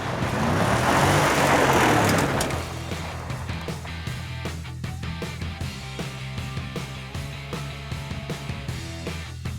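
A Nissan Titan XD Pro-4X pickup truck drives on dirt roads. A loud rushing swell gives way to a steady rumble with crunching, rattling ticks from the surface.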